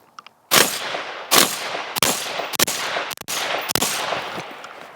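A threaded .22 LR Lifecard fires repeatedly at a Yugoslavian military helmet outdoors in snow, six sharp, close shots spaced roughly a second apart with short ringing tails and no talking.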